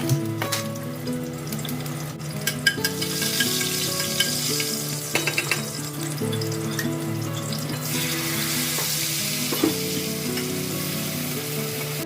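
Steady, loud sizzling of spices, green chillies and chickpeas frying in hot oil, with occasional clinks and stirring sounds and no talking.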